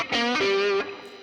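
Heavily distorted electric guitar tone through a Line 6 Pod HD 500X, pushed harder by a compressor boost into the distortion; a single loud, buzzing sustained note that rings for under a second, then trails off into a quieter hum.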